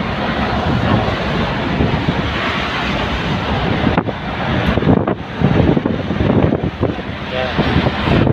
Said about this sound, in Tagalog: Yan lang, medyo mahangin.